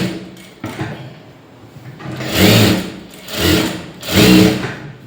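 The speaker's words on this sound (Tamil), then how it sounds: "இப்போ இதை சுற்றி ஒரு தையல் போட்டு எடுத்துக்கலாம்." A sewing machine stitches around a lined blouse in three loud, rhythmic bursts of running stitches with short pauses between them, close by and with no talking.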